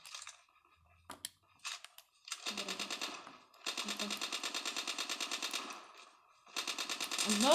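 Rapid automatic gunfire in a duo match of a video game, heard as several long bursts of fast, evenly spaced shots with brief pauses between them, loud and close, mixed with single louder shots near the start.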